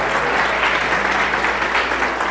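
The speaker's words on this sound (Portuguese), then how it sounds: "aplaudam esses pais" A church congregation at a Father's Day service applauds loudly, a dense, sustained wash of clapping from many hands filling the room without a break.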